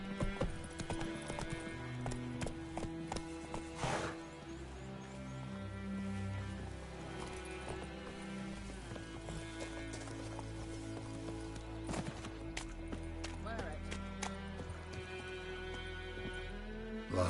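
Roach, the horse in The Witcher 3, gallops with a rapid clip-clop of hooves that continues throughout, layered under a sustained musical score.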